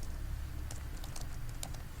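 Quiet keystrokes on a computer keyboard while entering text in Photoshop, a few light irregular clicks clustered together over a low background hum.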